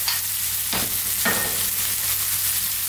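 Tuna sizzling in a hot pan for a creamy tomato tuna pasta bake, a steady loud frying hiss with two brief stirring scrapes, no talking.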